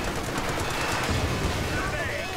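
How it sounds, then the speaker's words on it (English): Rapid machine gun bursts and mixed gunfire from a Company of Heroes 2 battle, dense and continuous throughout, with shouted voices in the mix. "Machine gun firing!"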